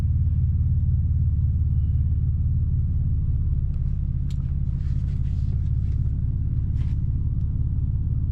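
BMW E46 idling near operating temperature with two cherry bomb glasspack mufflers, giving a steady low exhaust rumble with faint mechanical ticks.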